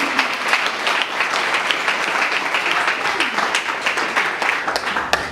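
Church congregation applauding during a French-language praise and worship service, a dense steady wash of many hands clapping throughout, with faint voices mixed in.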